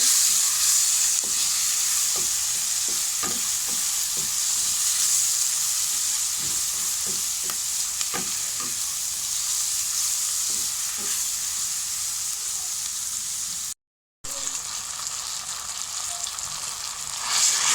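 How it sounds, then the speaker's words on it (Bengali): Onion, garlic and green chili fry in hot oil in a village kitchen, a steady close sizzle with occasional stirring scrapes throughout, broken by a brief gap near the end. "এটা পেঁয়াজ, রসুন, কাঁচামরিচ দিয়ে দিলাম। সুন্দর করে একটু লাল লাল করে ভেজে নেব"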